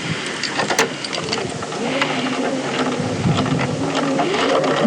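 Sewing machine stitching down a godet seam, a steady mechanical whirring and clatter running close and continuous throughout, with no talking.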